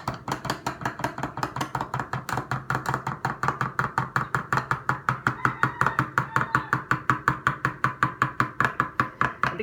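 Roasted garlic sourdough bread dough is stirred in a fast, steady rhythm of wet, slapping strokes, several per second, close and even throughout.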